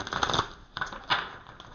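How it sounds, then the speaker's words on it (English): Tarot cards are shuffled by hand in a few quick riffling bursts, crisp and close, with short pauses between them and no talking. "People like to see that I'm shuffling the cards"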